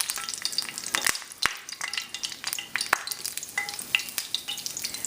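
Fresh curry leaves hit hot oil in a pan, giving a close, steady crackling sizzle with sharp spitting pops and occasional stirring clinks throughout.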